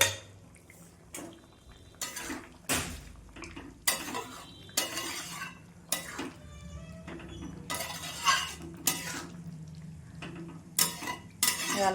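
A pot of soybean and potato curry on the stove gives off a series of close metallic clinks, lid and utensil clatter and scraping stirs over a faint simmering sizzle, with no talking.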